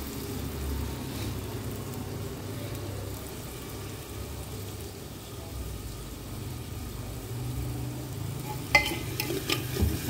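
Onions fry in a clay handi pot while being stirred, giving a steady close sizzle with scraping stir sounds throughout and a few sharper clinks near the end.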